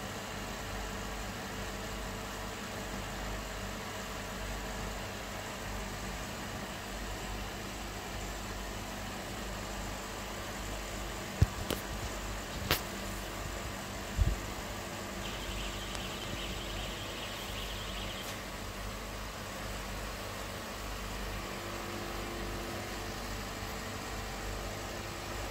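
A machine processing dry grass into livestock feed runs steadily with a low, even hum and rumble, moderately distant, with a few faint clicks and knocks over it.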